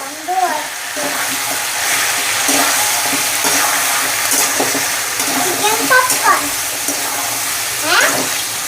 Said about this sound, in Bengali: চিকেনটা আবার একটু নেড়ে দেবো